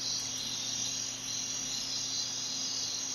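Crickets chirp in a dense, steady, continuous high trill as the ambience of an animated scene playing on an iPhone, with no other sounds present.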